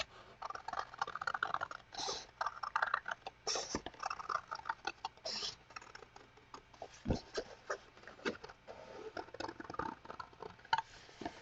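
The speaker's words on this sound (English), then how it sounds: "keep the scissors kind of open and just move the paper in a curve" Scissors slowly cutting paper in curves for a cat collage, a close, quiet run of crisp snips and papery rustling in an uneven rhythm, with no talking.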